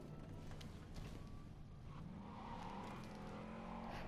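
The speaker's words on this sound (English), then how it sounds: "it's been so long since I've driven an actual car in this game" A car in Cyberpunk 2077, played on a base PS4, drives with a steady engine drone and a shifting pitch that grows a little louder toward the end, with no talk.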